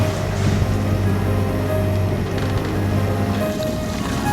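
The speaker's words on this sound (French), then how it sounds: "Nous avançons à une vitesse de 4 nœuds et demi sur un moteur." Steady low drone of a sailboat's engine at about 4.5 knots, with a constant hum joined by faint water wash, continuous and fairly loud throughout.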